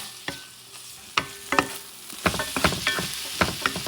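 Salmon sausages sizzling in a pan, with distinct utensil scrapes and stirring clicks over a steady fry, the knocks growing busier toward the end; close and loud, no talking.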